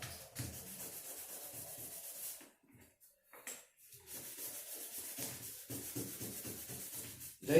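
Steady rubbing of sandpaper on a handmade Mapuche jewelry piece, close and even in rhythm, with a brief pause midway before the scraping strokes resume; no one talks.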